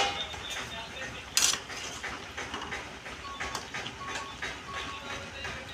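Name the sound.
lid being taken off a cooking pot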